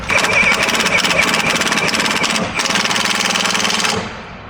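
Pneumatic impact wrench tightening 21 mm bolts on a 2025 Sprinter Agile off-road RIP kit, a loud continuous rattling hammer for about four seconds with a brief dip midway, close up.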